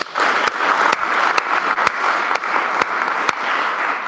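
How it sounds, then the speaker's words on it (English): A small audience at a recovery meeting claps together in a steady round of applause, with a few sharp individual claps punctuating the sustained patter. "let's have another round of applause for our birthdays."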